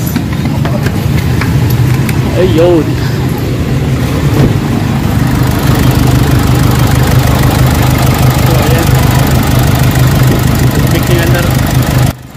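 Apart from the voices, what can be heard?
Nissan Navara engine idling with fuel knocking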